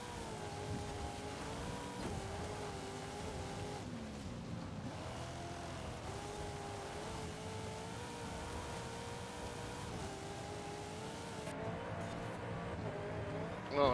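A 1993 Ford Mustang in Forza Horizon 5 holds a steady, droning engine note heard from inside the car, rising and falling slightly with throttle, loud and continuous without talk.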